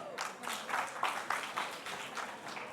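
Audience at a poetry recital applauds for poet Mukul Sharma: a dense, steady wash of many hands clapping at moderate volume, pulsing slightly throughout with no speech over it.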